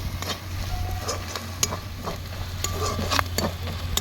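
Cumin paste and ginger-garlic paste fry together in a pan, with a close, steady sizzle broken by the repeated scrape and tap of a spoon being stirred through it.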